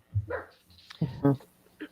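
Dogs at home barking and yipping in a few short, close bursts, with a brief whimpering tone between them.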